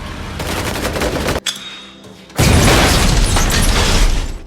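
Gunfire in an action film scene against a cartel force, with a dense loud burst of shots and booming, a brief lull, then another sustained heavy barrage.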